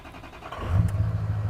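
A diesel engine in a vehicle being diagnosed for a no-start fault catches and settles into a low, steady idle rumble, brief and moderately close.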